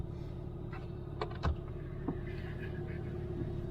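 A 2022 Ram 2500 pickup with a 6.7 Cummins diesel idles in a low, steady rumble, with a few brief clicks and knocks over the top.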